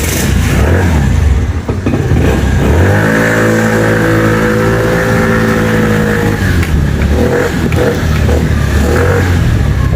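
A fuel-injected 50cc motorbike with a fault light and stalling problem starts up, then its small engine revs loudly and steadily for a few seconds before dropping back to a rough idle, close by.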